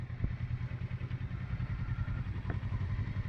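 A motorcycle rolls at slow walking speed during a licence skills test in Burnaby, its engine a low steady putter with faint clatter, heard from a moderate distance with no talking.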